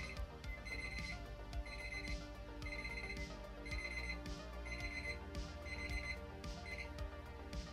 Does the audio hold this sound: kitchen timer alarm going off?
yes